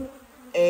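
Honey bees buzz around a hive frame during a colony inspection, a steady droning hum that swells abruptly louder near the end as the insects come close.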